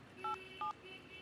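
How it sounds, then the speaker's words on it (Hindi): Two short DTMF keypad tones from a phone being dialed, quiet and close, with a faint hum underneath. "चल एमडी को फोन लगा।"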